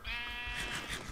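A sheep bleats once in the video game Minecraft, a single wavering call at moderate volume with no voices over it.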